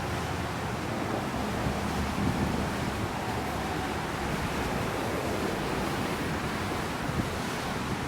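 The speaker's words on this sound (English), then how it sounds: "Water is spraying out of all the little tiny holes." A garden soaker hose sprays water from many tiny holes in a yard, giving a steady, soft broadband hiss that holds evenly throughout with no talking.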